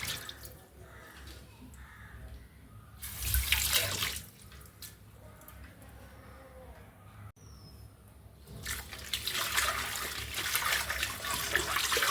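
Water runs from a tap in gushing bursts, splashing as something is washed under it, with a quieter pause between streams.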